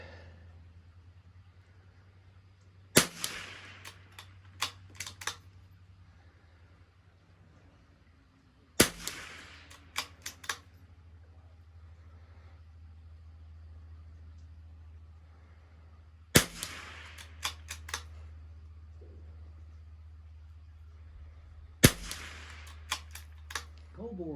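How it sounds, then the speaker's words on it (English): A Vudoo V22 rimfire rifle fires a group at the range, four sharp isolated shots spaced several seconds apart, each followed by brief clicks of bolt cycling, over a low steady hum. "We're gonna let him shoot a group just to see if maybe it was me in the bag."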